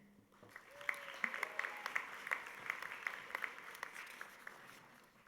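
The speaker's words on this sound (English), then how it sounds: "Let's please now have a round of applause for all of our award winners" Audience applause for award winners at a university honors convocation, a sustained round of clapping from a crowd, rising quickly and holding steady at moderate volume for several seconds with individual claps standing out.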